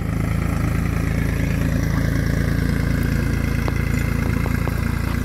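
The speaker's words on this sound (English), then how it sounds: "Oh, here comes the tractor." A steady, loud tractor engine rumbles throughout at a constant idle-like drone, with no talking over it.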